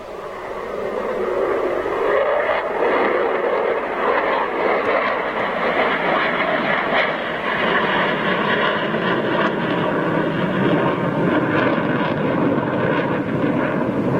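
Military jet aircraft approaching to land at RAF Lakenheath, a loud, steady engine roar that rises over the first couple of seconds and then holds continuously, with no talk over it.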